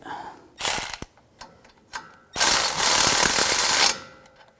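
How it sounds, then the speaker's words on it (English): A ratchet tightens a castle nut on a front strut of a 2011-2018 Ram 1500 3.6L V6, with a short burst of clicking, a few single clicks, then a longer rapid ratcheting run, close up. "Just pry down while I tighten up the nut."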